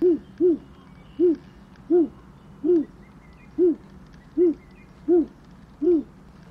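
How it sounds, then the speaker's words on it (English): An owl in the Anna's Quest video game hoots in a steady, evenly spaced series of about nine clear, loud calls with no voices over them. "Winfrieda, she can hear the owl"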